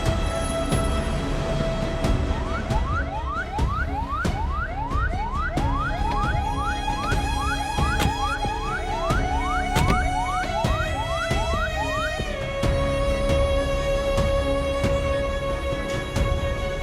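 An ambulance siren in a TV drama scene wails in a fast, repeating rising sweep that runs steadily for most of the stretch before settling into a steadier tone, layered over a dense background with no talking.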